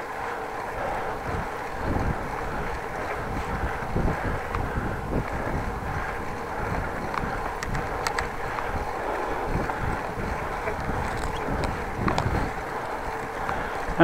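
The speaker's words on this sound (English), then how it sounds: "And I'm now having wind in my back again." Wind buffets the microphone of a bicycle riding along a country road between Groningen and Appingedam, producing a constant low rumble with gusty surges and no talk.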